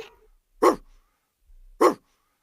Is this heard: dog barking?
yes